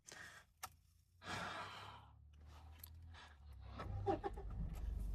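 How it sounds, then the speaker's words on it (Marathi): A 2014 Mitsubishi Pajero Sport's diesel engine starts with a short cranking burst, then settles into a low, steady idle rumble that slowly builds. The sound is faint and somewhat distant. "there it rose to the life diesel engine"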